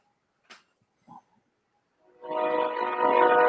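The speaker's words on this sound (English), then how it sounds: "They just open the valve all the way on that horn." A freight train horn blows softly with a steady, sustained chord that builds and holds loud near the end, following a couple of faint clicks and knocks in an otherwise quiet room.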